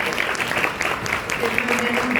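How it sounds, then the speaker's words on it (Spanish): An audience gives a warm round of applause after a doctor finishes a lecture, steady dense clapping filling the short stretch at an even level without pause. "Un fuerte, cálido aplauso"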